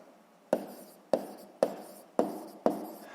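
A pen or chalk writing marks in five short, evenly spaced strokes, each a sharp scratchy onset that tails off, close and clear in a quiet room while a sixth-grade maths exercise is worked.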